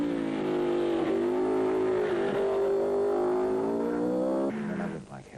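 A Mercedes Formula One car leads the British Grand Prix, its engine holding a loud sustained whine that rises and shifts pitch through gear changes before fading away at the end, with talk mixed in.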